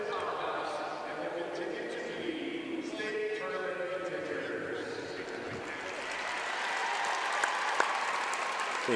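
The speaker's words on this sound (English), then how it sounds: "Big round of applause." Fans at a high school state volleyball match applaud in a broad, continuous wash of clapping and crowd noise that swells slightly toward the end, with an announcer talking over it.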